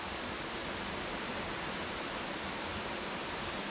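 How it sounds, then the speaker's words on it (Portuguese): A large waterfall on the Levada do Caldeirão Verde trail in Madeira gives a steady, dense roar that holds at an even level throughout, with no voices over it. "Olha, pessoal, olha o tamanho da queda d'água."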